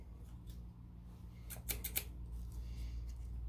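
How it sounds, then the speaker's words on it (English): Metal scissors are handled and snipped beside folded paper in a quiet room, a few sharp, quick clicks in a short cluster over a low steady hum. "And here are my scissors."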